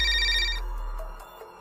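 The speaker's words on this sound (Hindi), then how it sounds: "उसके बाद गोलू ने पूरे कॉन्फिडेंस के साथ चुड़ैल को फोन लगाया।" Telephone ringtone in an animated story, a bright electronic ring that sounds briefly and cuts off, then fades into quiet.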